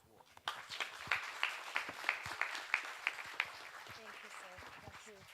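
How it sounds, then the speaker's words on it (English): Audience applause at the Earth Hour 2024 launch and symposium, a steady burst of many hands clapping with distinct sharp claps near the front, rising quickly then thinning out, with a voice speaking over the end. "Another big, big hand of applause to Klibo."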